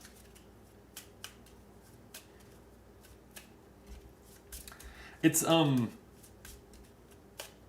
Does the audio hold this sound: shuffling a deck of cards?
yes